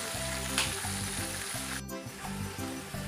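Chicken wings frying in a pan give a loud, continuous close sizzle and crackle with a brief dip partway through, with no talk over it.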